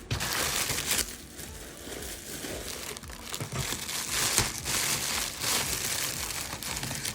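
Bubble wrap packaging is unwrapped in continuous close crinkling and rustling, loud and busy throughout with brief crushing accents.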